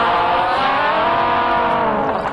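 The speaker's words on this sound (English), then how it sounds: "we're going to use our whammy bar over here and pull it up." An electric guitar slide with the whammy bar pulled up, played as a fill, giving a loud, sustained, smoothly rising distorted tone that holds throughout.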